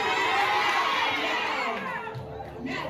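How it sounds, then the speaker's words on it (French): A church congregation shouts amen in a loud, sustained roar of many voices that dips slightly toward the end. "Tu dois crier amen."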